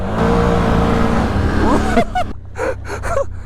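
Can-Am ATVs, a G2 Renegade and a G3 Outlander, race on an open trail, engines droning loud and steady before revving and shifting in pitch, with voices shouting briefly over the motor noise near the end.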